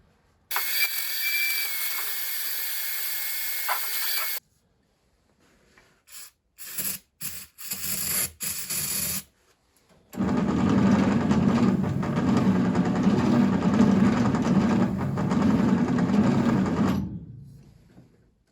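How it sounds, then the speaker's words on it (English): A vacuum cleaner whirs briefly, cuts out, sputters in short bursts, then runs steadily with a loud droning motor for several seconds before stopping. "Maybe I'll vacuum that out real quick first."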